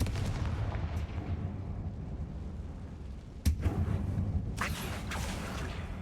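A Confringo blasting spell goes off in Hogwarts Legacy inside a mine, a sudden sharp burst followed by crackling debris and a second explosive rush, amid low rumbling ambience.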